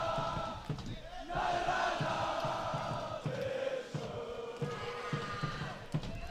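Spectators at a school water polo match between Bishops and Paul Roos cheer and shout as a steady, loud crowd roar, rising and swelling in waves with scattered yells throughout.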